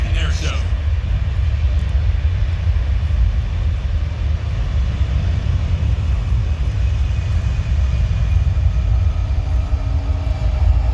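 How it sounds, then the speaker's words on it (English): A Boeing C-17 military transport aircraft on a max effort takeoff at the Dayton airshow gives a steady, loud low roar that holds unbroken throughout, with faint crowd noise at the start. "Let's watch as the C-17 takes to the skies for Centerpoint Dayton Airshow."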